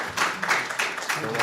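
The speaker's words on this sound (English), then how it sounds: "Keep clapping louder till he comes." Audience clapping at an art exhibition and book launch as the Deputy Mayor of the Borough of Greenwich comes on stage, a steady moderate patter of hands with a slight swell.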